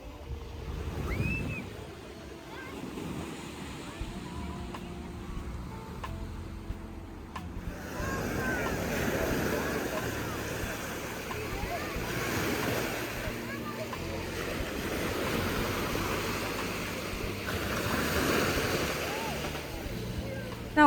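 Gentle sea waves washing onto a sandy beach in Antalya, Turkey, a soft continuous surf with swelling rushes, partly buffeted by wind on the microphone, while a person talks over it.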